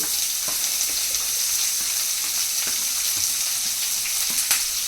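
Finely chopped onions fry in a pan with a steady, close sizzle and occasional light clicks of stirring, and no voices are heard.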